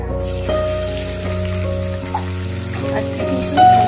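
Paneer shallow frying in a pan of oil, a steady close sizzle and crackle running throughout with no talk, occasional sharper pops rising over the continuous hiss.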